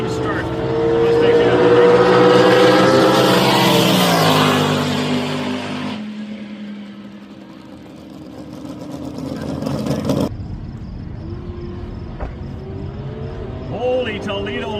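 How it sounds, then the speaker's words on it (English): A drag racing car launches hard from the start line at a Southwest Showdown event, a loud, sustained engine roar that sweeps and then fades as it pulls away, with a commentator talking over it and crowd noise behind. "Wheel stand for Isaac Stettner, and it's a clean start."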